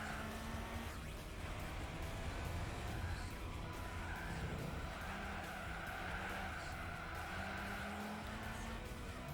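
Steady roar of engines from a ZZ and a Callaway Cadillac racing in Gran Turismo 4 at a supercar festival, a continuous dense drone with tire noise and some squeal, running throughout without pause.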